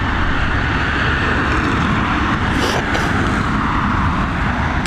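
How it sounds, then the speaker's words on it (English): A Scandinavian Airlines jet in SAS livery at Dublin Airport gives a steady, loud broadband engine roar that holds for the full stretch, with no talk over it. "we've got this Scandinavian Airlines with the SAS livery"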